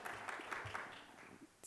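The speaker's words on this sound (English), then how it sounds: "I'm glad that you guys applauded, some of you applauded for that" Audience at a social work awards ceremony giving brief, scattered applause, a light patter of claps from a modest crowd fading out within a couple of seconds.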